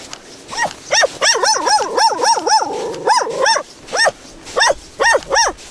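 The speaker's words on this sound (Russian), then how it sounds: "Собака бежит нас встречать." A dog barks repeatedly and loudly near a frozen lake during first-ice fishing, giving sharp, rapid barks in uneven bursts with brief whiny pauses between them.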